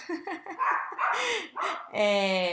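A dog barks close by in a quick run of sharp yips and barks, ending in a longer, whining bark.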